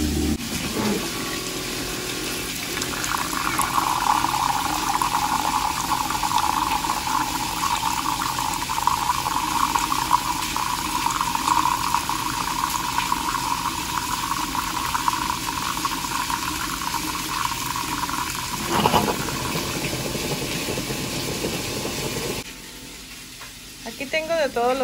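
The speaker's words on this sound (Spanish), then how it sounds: "Aquí nada más voy a sacar el agua." Water is drawn from a kitchen tap for making coffee, a steady hissing rush of flow that runs for about twenty seconds, then stops abruptly, with faint kitchen background noise.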